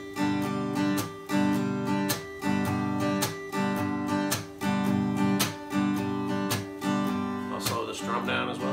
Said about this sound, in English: I put a slap strum in there as well